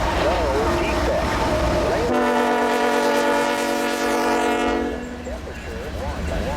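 A CN L571 freight train with Century locomotives and grain cars passes a trackside detector, with a loud sustained horn chord over rumbling wheels and rail noise, and a voice speaking before and after the horn.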